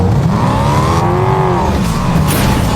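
A fast car in a shooting video game roars loudly and continuously, its engine pitch sweeping up and then easing down as it speeds along, with no voices over it.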